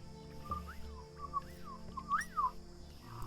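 Whistling at night in the wild: a series of faint, distant, rising and falling whistled notes, repeated several times in a quiet setting.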